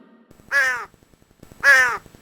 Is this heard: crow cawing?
yes